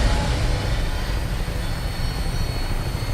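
An aircraft takes off in the video game Fallout Equestria, giving a loud, steady engine roar with a broad, rushing drone that holds level throughout and has no break.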